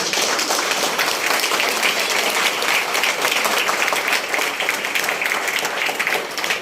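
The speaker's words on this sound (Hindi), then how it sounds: "अच्छा, केवल इतना ही ताली बजा पाते हैं आप लोग?" An audience at a large indoor gathering applauds throughout, a dense steady wash of clapping from many hands, loud and unbroken from start to end.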